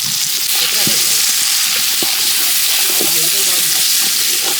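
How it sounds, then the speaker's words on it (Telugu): Onions and green chillies frying in a pan for mutton biryani give a loud, steady sizzle throughout, with occasional stirring scrapes and clinks. "ఉల్లిపాయలు పచ్చిమిర్చి అయితే వేసుకుందాం మాయా."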